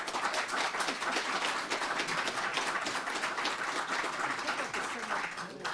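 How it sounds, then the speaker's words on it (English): Audience applause at a public meeting on a bus depot, a sustained wash of clapping lasting several seconds at steady loudness, with a few voices mixed in under it. "I usually don't get applause when I say no"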